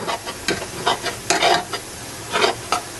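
Food browning in a hot pan for homemade tamales, a close bright sizzle punctuated by repeated scraping and stirring strokes in an irregular rhythm, no voices.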